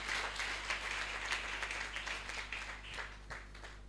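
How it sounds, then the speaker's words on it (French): A church congregation applauds in a scattered, faint, distant wash of clapping that continues throughout at a low level, with no voices over it. "Acclamons très très fort pour lui."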